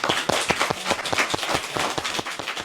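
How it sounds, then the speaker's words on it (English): Audience applause at a literary event celebrating Toni Morrison, a steady patter of many hands clapping close and fairly loud for the whole stretch, with no voices over it. "Please give a round of applause for Kim Martin Sadler."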